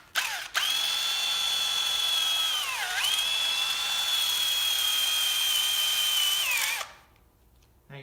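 A power drill with a half-inch bit boring into a deer skull, a loud high whine that holds steady, dips twice as the bit bogs under load, then spins down and stops.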